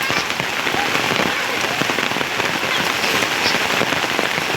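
Heavy monsoon rain pours down on a village lane turned into a flowing stream, a loud, dense, unbroken hiss of drops striking water and hard surfaces that stays steady throughout.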